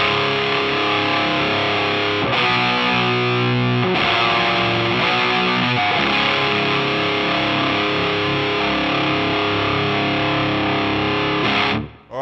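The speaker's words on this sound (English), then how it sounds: "this pedal's got a huge amount of gain in it" An electric guitar through a Sitek Cocoa high-gain overdrive/distortion pedal plays a few loud, saturated chords that ring out and sustain, then cut off abruptly.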